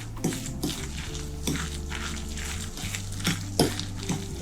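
Soft cheese, one egg and a pinch of salt are stirred together in a bowl, with repeated spoon clinks and scraping in an uneven rhythm against a low background hum.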